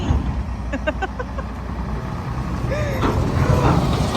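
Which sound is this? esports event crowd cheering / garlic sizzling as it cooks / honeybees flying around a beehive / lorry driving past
lorry driving past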